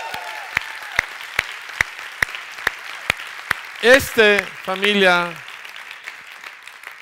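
A church congregation claps in a steady rhythm during a sermon, the sharp beats evenly spaced and clear. The clapping continues as a voice briefly speaks over it.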